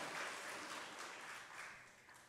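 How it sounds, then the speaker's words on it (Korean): Applause from a church congregation at a Sunday service in Korea, congratulating a newly married couple. It is a steady, dense clapping that fills the room throughout. "여러분들 다시 한번 박수로 축하해 주시기 바랍니다"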